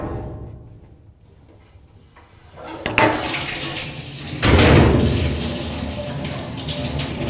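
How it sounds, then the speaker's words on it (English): Water rushes through a newly replaced bathroom tap spout as the main supply is turned back on, starting faint then surging into a loud, steady broadband flow with a sharp jump midway, no talking. "now we can turn our main water supply back on"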